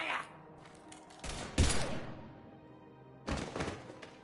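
Gunfire in the video game Mass Effect 3: a few heavy, booming shots and thuds with a decaying tail, separated by a quieter stretch.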